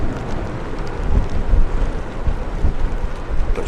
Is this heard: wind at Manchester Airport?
yes